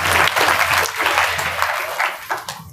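Audience applause at a wedding event fills the opening seconds, a dense burst of close clapping that thins out and fades toward the end while faint voices murmur underneath.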